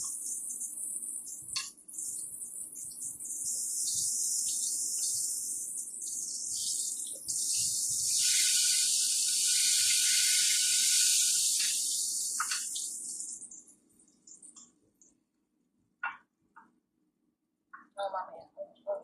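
Textured vegetable protein frying in a pan, a loud, bright, continuous sizzling hiss that swells and then cuts off near the end, followed by brief clicks and quiet speech.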